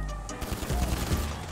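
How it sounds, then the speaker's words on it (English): A quick volley of gunshots in GTA 5, several sharp cracks in rapid succession, fairly close and loud against a rumbling background. "Oh, they're shooting."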